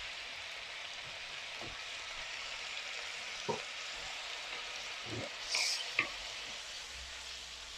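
Pork sizzling in a hot pan for a Thai black pepper stir-fry, a steady soft frying hiss with a few scattered pops and clinks of a utensil against the pan.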